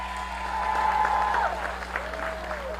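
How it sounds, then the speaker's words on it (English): Audience applause at an evening holiday lighting ceremony, steady and fairly close, with a faint tonal whistle or feedback line running through it. "That deserves another round of applause."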